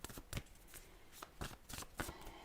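A tarot deck being shuffled by hand, several quick riffling bursts of card flutter at an uneven pace, close and fairly quiet, with no voices.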